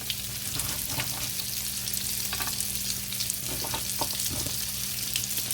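Garlic truffle fries fry on a hot surface, a steady crackling sizzle with scattered pops and a low hum underneath, moderately close and with no talking.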